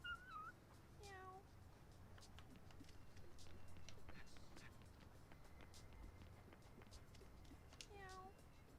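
Kittens in the video game No More Heroes meow in short rising cries at the start and again near the end, with soft pattering footsteps and game sounds between them.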